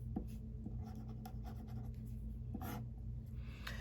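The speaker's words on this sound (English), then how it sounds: "So I just write with a fine point Sharpie what type of ink I use and the colors that I use." A fine point Sharpie writes on paper close up, giving soft, faint scratchy strokes and light taps in an irregular rhythm against a quiet steady background.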